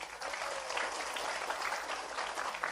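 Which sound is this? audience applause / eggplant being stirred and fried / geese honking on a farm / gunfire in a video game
audience applause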